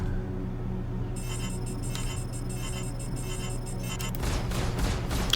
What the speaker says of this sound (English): Yep, there's the Gatling gun.